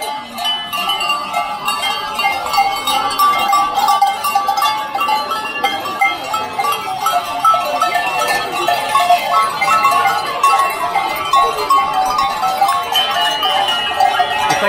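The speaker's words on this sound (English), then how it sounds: "A goat parade." A herd of goats with clanking cowbells moves along a path in the Swiss Alps near Zermatt, the bells ringing constantly and densely at close range for the whole stretch, with no talk over them.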